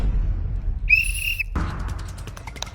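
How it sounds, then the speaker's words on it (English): A single shrill whistle blast, blown to start a footrace, rings out clearly for about half a second after a quiet pause and is followed by scuffling and crowd noise. "So you all, when you hear the whistle,"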